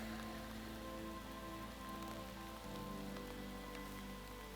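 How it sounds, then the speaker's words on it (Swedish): Steady rain shower pattering on surfaces outdoors, a continuous dense patter of drops close by, with a low hum underneath and no voices. "Det regnar och så är det sol."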